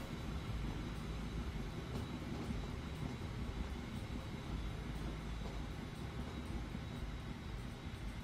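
A train in the Train Fever simulation game rumbles steadily as it approaches a station, a faint, constant low drone with no distinct events and no talking.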